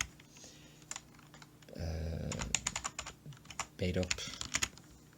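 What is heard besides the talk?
typing on a computer keyboard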